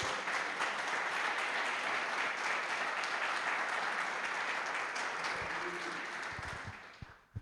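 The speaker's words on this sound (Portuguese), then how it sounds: "Agora aplaudo o Senhor, porque Ele é bom, aleluia" A worship congregation claps in sustained applause during a prayer, a dense continuous wash of many hands that fades out near the end, followed by a few low thumps.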